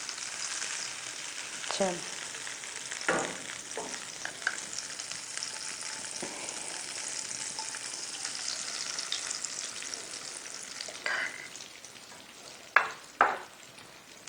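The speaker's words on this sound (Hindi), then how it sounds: "अब हमने अंडा फ्राई करना है।" An egg fries in a hot pan with a steady, bright sizzle that runs throughout, punctuated by a few sharp scraping clicks of a utensil and a brief spoken word.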